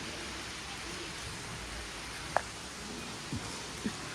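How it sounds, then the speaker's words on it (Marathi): Steady rain hisses evenly throughout, a soft continuous wash with a couple of faint drips or taps standing out. "छान पाऊस येत आहे मस्त"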